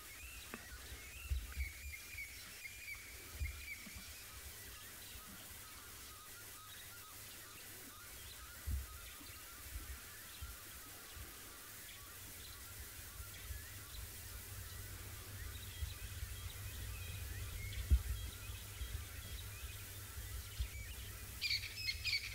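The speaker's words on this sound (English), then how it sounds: "the bush is alive with sounds at the moment, so I'm just going to keep quiet and try count how many different birds I can hear" Various wild birds call in the African bush, scattered chirps and tweets from several directions, mostly faint and distant over a low, steady outdoor ambience.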